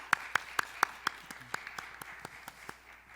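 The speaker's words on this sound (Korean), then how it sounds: "오늘 우리 함께 영광의 박수 하나님께 올려드리겠습니다" A church congregation claps in steady unison during an Easter dawn worship service, about a dozen crisp, evenly spaced claps that grow softer toward the end, with no talking.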